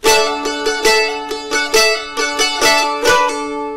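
A plucked stringed instrument plays a quick, bright riff of ringing notes, including a smooth pull-off, loud and close with no talking.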